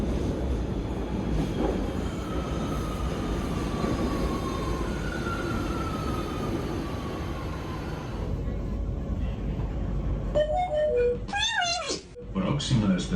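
A Barcelona metro train rumbles along with a steady, loud rolling roar and squealing tones, followed by chime-like announcement tones near the end as the train slows.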